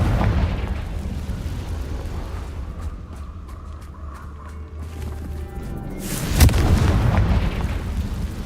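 Fiery Confringo blast spell from Hogwarts Legacy: a loud, sharp explosion bursts out near the end over a constant rumbling game soundscape, with no voices.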